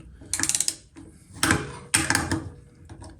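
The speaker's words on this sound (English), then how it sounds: "as you can see, the spanner does actually work" Ratchet spanner turning on a small threaded fitting, giving bursts of rapid metallic clicking in three close, loud runs separated by short pauses.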